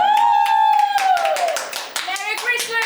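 Audience clapping at a Christmas-season show, with scattered claps under a sustained tonal sound and voices, a fairly loud and continuous texture over about three seconds.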